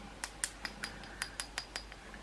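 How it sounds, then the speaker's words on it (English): Heavy glass beauty-product container tapped and clinked about nine times in quick, irregular succession, close and fairly quiet with no talking. "you can hear it's glass."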